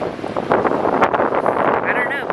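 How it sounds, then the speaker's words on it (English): Strong, cold gusting wind at a fishing spot buffeting the microphone, a rough, loud rush that swells and dips over a couple of seconds. "It is like super, super windy and cold"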